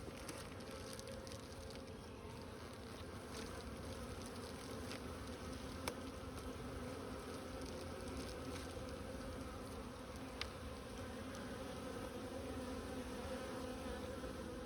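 Honey bees drone steadily from an open hive during a colony inspection, a dense continuous hum up close with a couple of faint clicks and no voices.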